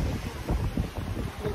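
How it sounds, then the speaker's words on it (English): Gusty wind buffets the microphone in uneven low rumbles, fairly faint and short. "It's kind of windy today."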